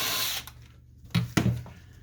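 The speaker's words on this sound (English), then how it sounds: "And then we're going to remove a screw right here." Screw being removed from an HP Photosmart C6150 printer during disassembly, heard as a brief hissing scrape followed by two short sharp clicks or knocks close by.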